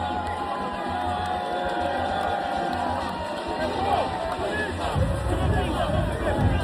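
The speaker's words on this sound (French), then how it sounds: "Ce supporter de la RDC vient de terminer sa performance ici pour le 3e match consécutif sous les applaudissements de la foule" A stadium crowd at an Africa Cup of Nations football match fills the space with a dense roar of cheering and chatter. It swells louder toward the end as the fans applaud a DR Congo supporter, and voices talk nearby.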